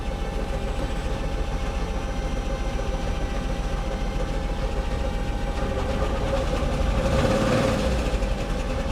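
Engine of a 1999 Camaro running roughly after its fuel pump was replaced, a loud, close, continuous low rumble with an uneven churning texture that swells briefly near the end.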